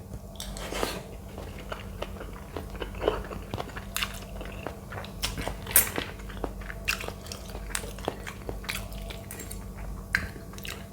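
Someone chews and bites into stir-fried spicy seafood packed with ingredients, giving close, crunchy, squishy mouth sounds in an irregular rhythm, with occasional light clinks of dishes.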